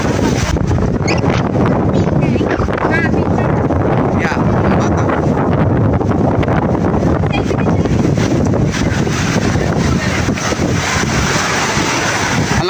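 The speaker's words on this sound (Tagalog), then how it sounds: "Malakas ng hangin." Strong wind on a small boat at sea off Pagudpud roars loudly and steadily into the microphone, with splashing waves beneath it the whole time.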